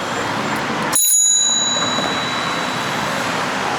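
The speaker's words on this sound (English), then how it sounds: "I was able to equip my bicycle with a bell." Handlebar bell on a bicycle in the streets of Tirana, Albania, struck once with a bright ding that rings on with a long fading shimmer over steady outdoor traffic noise.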